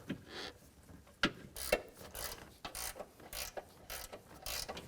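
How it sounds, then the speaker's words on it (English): Ratchet clicking in quick bursts while tightening transmission mount bolts on a 2011-2019 Dodge Grand Caravan, several sharp broadband strokes close by, the first few spaced out and the later ones coming in a steadier rhythm. "Before we tighten those bolts down, get the top bolts started, and then we can tighten them all down."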